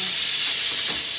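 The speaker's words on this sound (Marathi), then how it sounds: "कुकरला मी आता डाळ शिजायला लावलीये" A pressure cooker cooking dal gives off a loud, continuous hiss of escaping steam, steady and close throughout the short moment.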